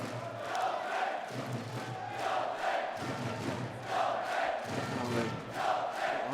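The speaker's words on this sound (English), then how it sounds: "The crowd are chanting his first name, Piotr, Piotr." Handball crowd at a Poland vs Sweden EHF Euro 2014 main-round match rhythmically chanting the goalkeeper's first name, Piotr, in a loud repeated two-beat chant filling the arena, with no commentary over it.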